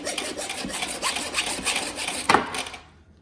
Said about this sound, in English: having a smaller hacksaw is definitely going to help